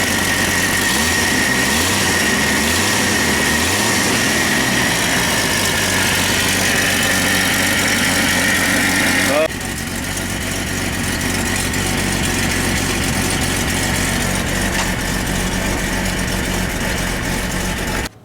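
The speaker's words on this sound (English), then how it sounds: "it's got a pretty good exhaust leak" A Jeep Cherokee engine idles steadily with a rough, puffing exhaust pulse from an exhaust leak, loud and close, running continuously with a slight shift in tone partway through.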